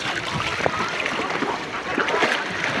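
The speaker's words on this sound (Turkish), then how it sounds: "Ay dalga geliyor." Sea waves wash and splash around swimmers at a beach, a continuous loud, close churning of water through the whole short stretch, with voices faintly mixed in.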